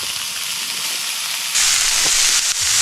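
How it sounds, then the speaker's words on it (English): Diced bacon sizzles in a pan over a camp stove, a steady broadband hiss that swells louder about halfway through as the fat heats, with no talking. "we got some diced bacon, so we're going to cook that in the pan, so we'll crack that on, get that going"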